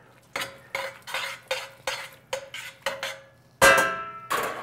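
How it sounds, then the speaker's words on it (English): Spaghetti being stirred and mixed with a little sauce in a pot, a series of about ten distinct clinks and scrapes of a utensil against the pot in a steady rhythm, close and fairly loud, with no talking. "you take a small amount of sauce and mix it in with the spaghetti and stir it around"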